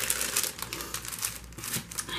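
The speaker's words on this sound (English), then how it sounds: "So it comes all in this like one little plastic bag." A thin plastic bag holding a craft stamp kit crinkles and rustles continuously up close, with a steady soft crackle and no talking.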